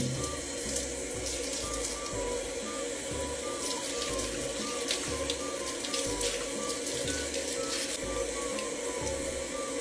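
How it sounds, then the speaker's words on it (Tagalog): Running water from a tap pours steadily while hair is rinsed with shampoo to wash out stuck slime, a continuous close splashing hiss with a faint mechanical hum beneath and no voices. "sa konting kuskus lang ng shampoo at ng tubig, ay nawala na agad yung slime sa buhok"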